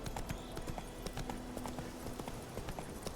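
Clip-clop of the horse Roach trotting in The Witcher 3, quick, even hoofbeats at a steady rhythm, moderately close and fairly quiet against a busy game ambience.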